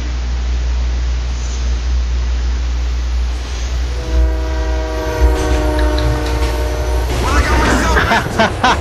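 A subway train from Grand Theft Auto: The Ballad of Gay Tony rumbles past with a steady low roar, then a long horn blares midway, followed by clattering wheels and rising noise; no talking.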